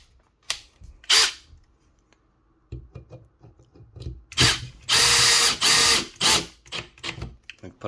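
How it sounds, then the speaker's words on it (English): A cordless drill, set off hammer mode, bores a pilot hole into wood to join two pieces: short trigger blips first, then longer loud whirring bursts with pauses between them, close up. "Then we get our cordless drill."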